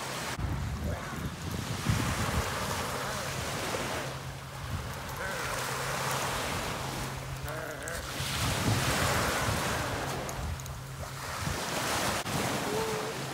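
Ocean surf rolls and breaks steadily on a beach, with rushing foam and wind buffeting the microphone throughout; faint voices sit under the water noise.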